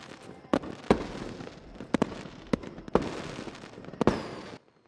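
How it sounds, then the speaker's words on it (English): Fireworks in a 2023 film, a run of sharp bangs and crackling bursts spaced unevenly over a few seconds, with a soft rumbling bed between blasts before the sound cuts out. "The back of them looking at the fireworks."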